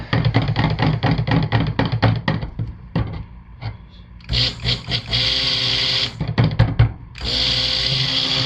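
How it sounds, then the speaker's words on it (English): A stick blender mixes key lime fragrance oil into soap batter, whirring in rapid choppy pulses, then pausing, then running in longer sustained bursts with a harsher buzz. "hand stir it with a stick blender for a little while"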